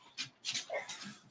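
Dog whimpers and whines in short, thin, high-pitched bursts, three or four quick cries close by, with no one talking over them.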